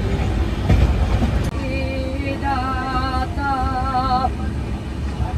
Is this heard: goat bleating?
no